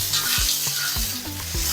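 Onions and parsley frying in a pan, stirred with a utensil: a steady sizzle with a few soft scraping strokes, close up, no talk.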